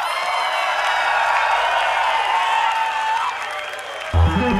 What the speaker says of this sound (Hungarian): Nagy tapsot Dórinak és Lórának!